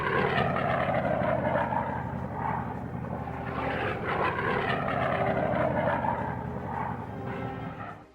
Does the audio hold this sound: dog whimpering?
no